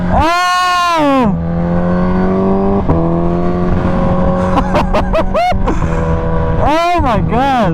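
A Kawasaki Ninja H2 motorcycle engine revs hard, its pitch rising and falling through loud sweeping pulls, with several quick sharp blips and a final high-pitched surge, while a voice exclaims over it.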